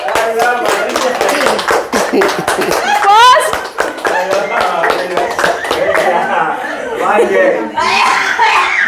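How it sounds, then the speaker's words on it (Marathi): A group claps hands at a paralysis rehabilitation centre, brisk uneven claps mixed with laughter and lively talk, close and fairly loud. "टाळ्या वाजवा सगळ्यांनी"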